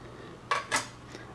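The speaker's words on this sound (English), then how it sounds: "stir until it is dissolved" A spoon clinks against a glass while stirring NAC (N-acetylcysteine) powder into an isotonic salt solution, giving two close, bright taps in quick succession and a fainter third one, with no talking.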